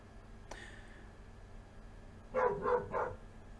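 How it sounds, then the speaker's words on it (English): Dogs bark in the background, a quick cluster of three or four muffled barks at a distance, set against a quiet room hum. "And the dogs bark in the background."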